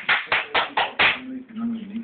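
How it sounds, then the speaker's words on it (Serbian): Five sharp, separate hand claps for a child named Luka come in a quick, uneven rhythm at close range, after which a voice carries on talking. "ajde sad aplauz, ajde aplauz"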